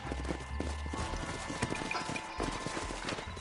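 Horses in the Red Dead Redemption video game, with a rhythmic clip-clop of hooves from several mounts trotting close by, steady and unbroken with no talk.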